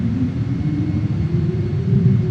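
A JAS-39 Gripen lowering its landing gear in a flight simulator makes a steady, close, low rumbling drone that holds without a break and swells slightly toward the end.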